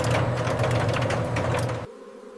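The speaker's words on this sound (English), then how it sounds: "The uncapped frames are loaded into a giant centrifugal extractor. As it spins" A large centrifugal honey extractor loaded with uncapped comb frames spins with a rapid, rhythmic mechanical clatter and hum in a honey factory, then cuts off abruptly near the end.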